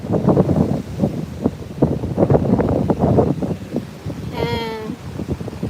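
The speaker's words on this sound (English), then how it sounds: "You can hear the wind." Strong gusty wind buffets the microphone on a stormy Florida boardwalk as high waves roll in, with loud rumbling bursts rising and falling throughout and a short tonal squeal near the end.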